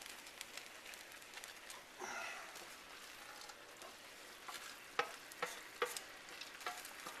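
Squash and onions fry in a pan, Southern style, giving a soft, steady sizzle with a spatula scraping and clacking now and then, quiet and close with a brief rustle partway through and no voices.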